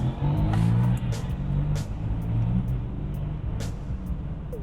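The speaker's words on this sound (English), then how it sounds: "A white KTM Duke 690. You don't see those often." White KTM Duke 690 motorcycle passing nearby, a steady low engine drone that swells early and then holds, with a few sharp clicks and knocks over the top.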